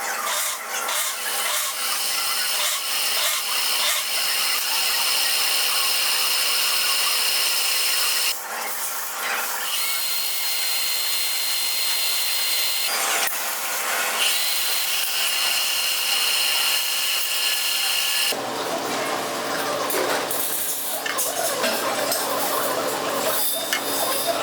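A part for a vertical steam engine build is cut off and smoothed by hand, giving steady, close rasping and rubbing strokes of a file or saw on metal that run throughout, with a coarser, louder stretch near the end.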